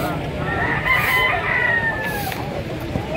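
Large rooster crowing close by in a fowl yard, one drawn-out crow over constant background noise and other farm sounds.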